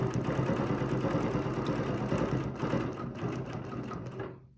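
A sewing machine stitches quilt fabric with a continuous close, even whirring hum that runs steadily and then stops abruptly near the end.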